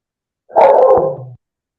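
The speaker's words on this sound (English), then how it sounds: "I can hear your dog barking." A dog gives a single loud, close bark, followed by a brief faint yip at the end.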